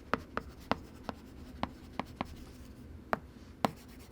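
Close, scratchy strokes of a stylus on a matte screen protector over an iPad LCD display, a quick irregular series of short taps and scrapes, quiet and without voices.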